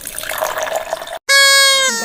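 Water poured into a vessel for making tea: a brief wet splashing run, a short gap, then a rising tonal fill as the container gains water, close and clear, with no talk.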